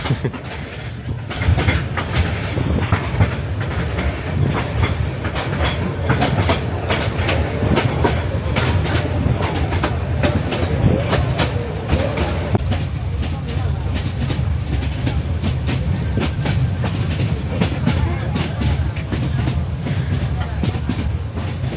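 Passenger train carriages on a rail journey toward Bagan in Myanmar, with a steady, loud rattle and clickety-clack of wheels on track running throughout, mixed with background voices.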